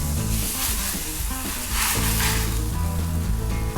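Steady, dense sizzling from water hitting a hot Blackstone griddle during cleaning, continuous and fairly loud with steam and a low musical drone running underneath.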